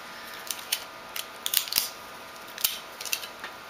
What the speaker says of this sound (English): Actually, first I'm going to be doing the tape.